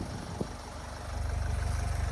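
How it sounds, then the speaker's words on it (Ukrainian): The Euro 5 2.0-litre diesel engine of a 2012 Opel Vivaro van idles steadily nearby, a low even rumble that grows slightly fuller and more pulsing partway through. "Робота мотора у нас, я думаю, тут чути одразу. Працює рівненько."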